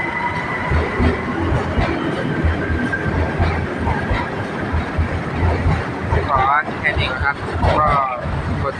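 BTS Silom Line skytrain cars rumbling into and out of platform 3 of a Bangkok station in the evening, a loud sustained roar with wheel squeals and wind noise near the end.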